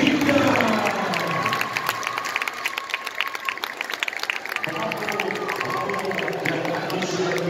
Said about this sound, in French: vous allez applaudir les Chevaliers 2018